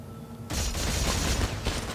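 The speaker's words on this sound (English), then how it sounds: "That's a chain gun." Chain gun firing in the video game Dead Space 3, a sudden dense rattle of rapid shots that starts after a brief quiet and continues loud and close for well over a second, with no speech.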